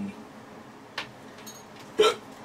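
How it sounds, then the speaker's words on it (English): Two sharp hiccups break through a quiet room, the second louder than the first, with faint background murmur and no clear talk. "I've now got hiccups."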